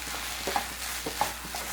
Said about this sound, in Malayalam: നന്നായിട്ടെല്ലാം കൂടി മിക്സ് ചെയ്ത് കൊടുക്കാം.